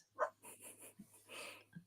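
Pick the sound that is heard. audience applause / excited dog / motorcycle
excited dog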